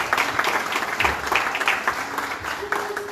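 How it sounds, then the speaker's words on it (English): An audience claps warmly for a children's play at an Advent celebration, dense steady applause with a few sharper individual claps standing out, lasting throughout. "I think they deserve another round of applause."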